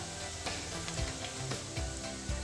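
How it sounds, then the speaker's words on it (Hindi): Red chili powder and turmeric frying in a pan: a steady, close sizzle with soft scraping strokes of a spoon stirring the spices, heard alone with no talking. "अब इनको भी मसालों को थोड़ा सा हम फ्राई होने देंगे।"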